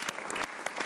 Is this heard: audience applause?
yes